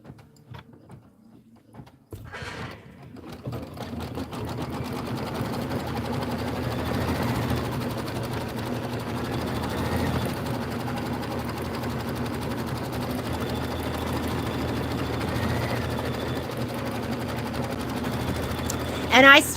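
A sewing machine stitches steadily around a quilted embroidered block, a continuous close, even whirr running for most of the span after a brief quiet start.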